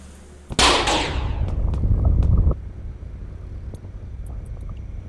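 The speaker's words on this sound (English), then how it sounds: "And now the fire is spreading because of that tank explosion." A gas tank explodes in a kitchen in Cooking Simulator, and fire spreads after it. A sudden loud blast gives way to a roaring, crackling whoosh that lasts about two seconds and then drops to a low background rumble.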